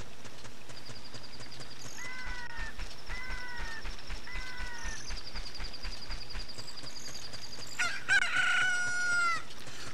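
A chick hatches from an incubated egg in Zelda: Ocarina of Time, with a game jingle, soft repeated clucks, and a final bright crowing call standing out over steady electronic background music.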